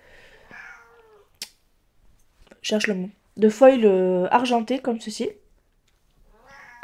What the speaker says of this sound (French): j'ai le chat qui miaule à côté